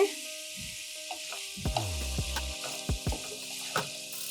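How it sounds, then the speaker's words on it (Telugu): Spice powders such as chilli, coriander and cumin frying on low flame in a pan with potatoes and broad beans, a soft steady sizzle broken by occasional stirring knocks and a metallic ring. "పచ్చివాసన పోయే వరకు కొంచెం లో ఫ్లేమ్లో బాగా ఫ్రై చేసుకుందాం"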